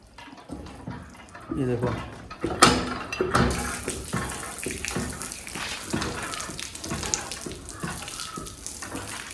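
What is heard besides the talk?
water flowing from a tap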